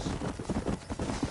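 Horse hooves clip-clopping in the video game Red Dead Redemption, a quick run of close, rhythmic thuds over about a second.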